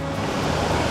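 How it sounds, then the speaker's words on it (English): At Foster Falls, the waterfall pours into its plunge pool with a steady broadband roar of rushing water, loud and continuous throughout, with no voices. "overlooks the waterfall and the plunge pool"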